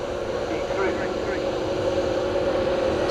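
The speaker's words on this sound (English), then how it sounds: "You can hear the 321neo" An Airbus A321neo airliner at Manchester Airport, heard from the runway visitor park, gives a steady engine roar with a sustained tonal whine throughout the short stretch, moderately distant, with a voice talking over it.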